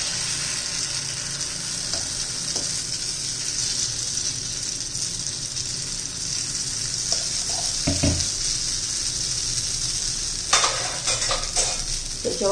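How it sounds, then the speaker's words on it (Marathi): Idli batter hitting a hot oiled tadka pan gives a steady, close, loud sizzle and frying hiss throughout, with a few scraping stirs and clinks near the end. "हा तडका पॅन मी गरम करायला ठेवलेला आहे, त्याच्यामध्ये आपण तेल घालून घेऊया।"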